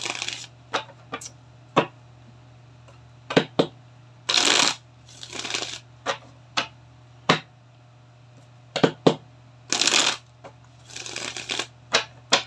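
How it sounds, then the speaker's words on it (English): Tarot cards shuffled by hand for a reading, giving a series of crisp close riffles and sharp taps, some short, some in longer bursts, spread irregularly over a low steady hum. "Isang shuffle na lang."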